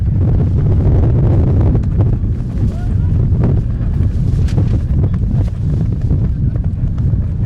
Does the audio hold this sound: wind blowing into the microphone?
yes